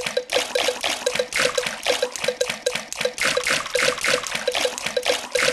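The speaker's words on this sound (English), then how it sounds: "Peppa and George love splashing in the" Cartoon splashing and swimming in a pool in a Peppa Pig video game, steady rhythmic water splashes repeating over a running liquid wash.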